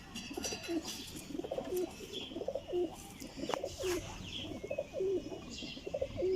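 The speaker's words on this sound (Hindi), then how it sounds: "लो जी भाईजान गोल्डन कबूतर" Golden pigeons coo repeatedly in soft, throaty phrases, with faint chirps and outdoor background noise between the calls.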